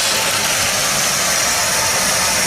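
A 1978 Dodge D100 pickup engine idling steadily after sitting almost 20 years, a continuous close rumble with broad noisy hiss on top and no break or change in pace.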